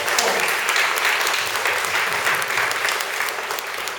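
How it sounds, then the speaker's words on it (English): Steady, dense applause from the audience at a press conference for a children's content festival, close and continuous, easing slightly toward the end. "Let's give a collective applause to all the four."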